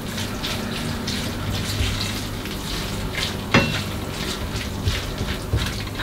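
Meat for bolognese sauce browning in a pan, a steady sizzle with a sharp clink of a utensil partway through and soft stirring scrapes.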